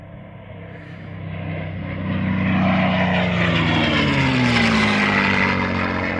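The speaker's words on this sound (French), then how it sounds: "Magnifique passage du P-51 Mustang." A P-51 Mustang propeller fighter flies past at an air show, its piston engine roar building from moderate to loud with a shifting drone as it passes nearby, no voices.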